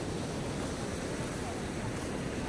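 Sea waves washing on a dirty shore, a dense, steady, faint wash mixed with wind noise, with no clear voices.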